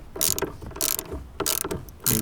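A ratchet loosens a 10mm bolt inside a 2014-2019 Cadillac CTS, four quick bursts of close, crisp clicking separated by short pauses.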